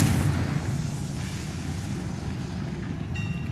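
A Confringo fire spell explodes in Hogwarts Legacy with a heavy, rumbling blast that swells at the start and decays into a low roar, with a faint bright tone near the end and no speech.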